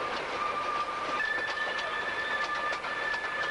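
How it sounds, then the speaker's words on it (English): A ride train rolls along with continuous rumbling noise and high-pitched wheel squeals scraping on the track around a bend, steady and fairly loud, no talking. "Very noisy on the where the wheels scrape along the track as it starts to go around the bend"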